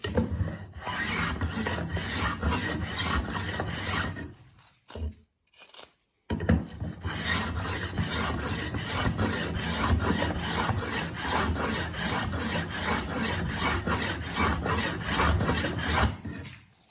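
A tongue-and-groove hand plane cuts along a wooden board in steady, rhythmic rasping strokes, close and fairly loud, with a short pause partway through before the strokes resume.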